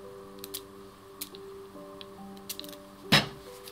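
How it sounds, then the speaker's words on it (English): A spray bottle mists water onto a handmade fairy inn craft ornament, giving one short, sharp hiss near the end, preceded by faint scattered clicks and a low steady background hum, with no talk. "I like to mist mine with a little bit of water"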